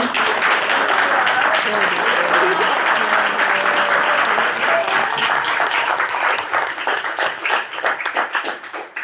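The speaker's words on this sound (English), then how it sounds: "a round of applause for them" A crowd applauds loudly and steadily for several seconds, with the clapping thinning out toward the end and some voices mixed in.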